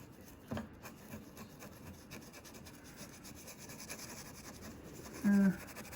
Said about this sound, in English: Take our scratching tool here.